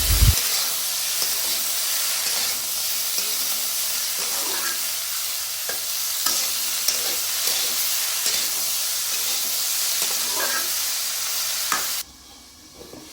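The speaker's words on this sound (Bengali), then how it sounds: "এখন আমরা এই সিম নেড়ে চেড়ে ভালোভাবে" Flat beans being stir-fried with spice paste in a pan, a loud continuous sizzle with intermittent scraping stirs throughout, cutting off abruptly near the end.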